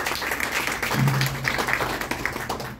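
Applause from an audience at a gathering in an art gallery: dense, steady clapping of many hands throughout, with a voice briefly audible in the middle.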